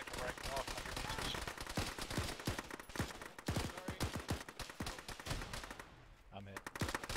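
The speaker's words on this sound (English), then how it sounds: "Two, you're being shot at from the northeast." Sustained automatic gunfire in the ArmA military simulation game, a dense chatter of close and distant shots with machine-gun bursts continuing throughout, and a brief voice near the end.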